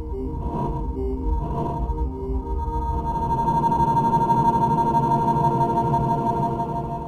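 An Audiothing Noises synth plugin warps through a tempo change that slows over two bars. A dense, droning tone shifts from pulsing, wobbling layers into a sustained sonar-like whine, steady and loud throughout, with no voices.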